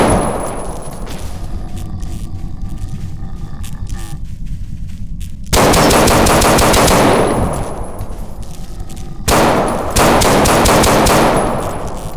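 Video game gunfire in Paranoia 2: Savior, loud rapid bursts of automatic fire with metallic clangs, in two long sustained volleys separated by quieter stretches of background game noise.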